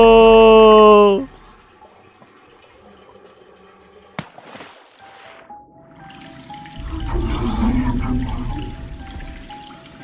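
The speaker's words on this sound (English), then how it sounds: "She flushed us down." Toilet flush in a 360-degree VR video: a sharp click, then a rising rush and swirl of water that grows louder and churns steadily near the end, with a voice briefly heard over it.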